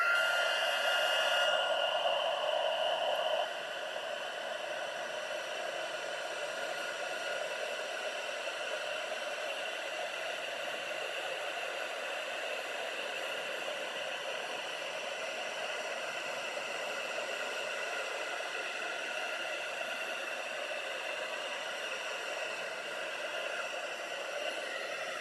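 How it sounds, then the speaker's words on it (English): Steady whooshing blower noise from a heat gun heat-embossing a Christmas card, running continuously and fairly close, slightly louder for the first few seconds then settling into an even hiss. "we're just going to heat emboss this again"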